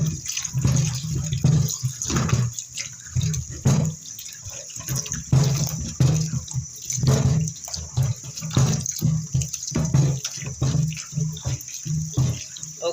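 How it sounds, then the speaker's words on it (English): Running tap water splashing steadily as a butternut squash is rubbed and turned under the stream, with uneven surges and a faint hiss throughout. "I'm washing it under running water."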